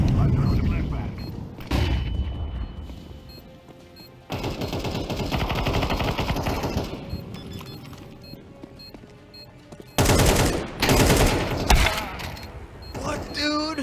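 Bursts of rapid automatic gunfire and a flashbang grenade blast ring out in a shooter video game, loud and close, with sharp staccato volleys separated by short lulls while players talk over the action.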